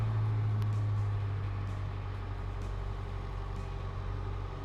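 An Isuzu NPS300 4x4 overlander truck with a Discoverer Xtreme 835 body rumbles steadily while maneuvering into a parking spot, a loud, constant low engine drone with no talk.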